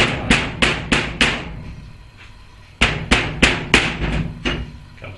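A rubber mallet gently taps a part on an overhead valve engine during repair, two quick runs of about five sharp, close knocks each, separated by a short pause.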